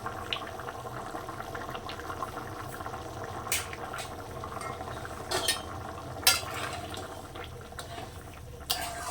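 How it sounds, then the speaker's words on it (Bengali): Pot of chicken ghugni with chui jhal simmering on the stove, a steady low bubbling under faint kitchen clatter, with a few sharp utensil clinks scattered throughout. "ঘুগনিটা ফুটিয়ে নেব"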